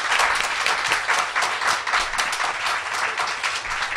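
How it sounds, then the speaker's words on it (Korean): Dense, steady applause from a studio audience on a Korean talk show, loud and sustained throughout with no break in the clapping. "박수 한번 주세요."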